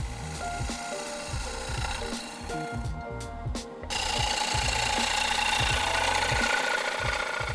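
A wood lathe spins a bowl while a cleaner tool shapes a curve into the rim. Rhythmic low thumps and scraping run throughout, with a short near-silent gap before a louder, brighter cutting hiss takes over. No one speaks.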